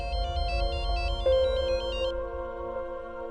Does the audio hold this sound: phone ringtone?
yes